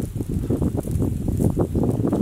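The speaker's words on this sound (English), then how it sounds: "It's fairly windy tonight." Gusty night wind buffets the microphone with low rumbling bursts beside a campfire, steady and close throughout.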